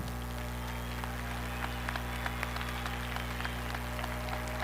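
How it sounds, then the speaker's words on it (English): Sustained audience applause at a high school graduation ceremony, a steady wash of many hands clapping throughout with scattered sharper claps standing out, spread over a large crowd. "Please continue to give these various groups and organizations a round of applause."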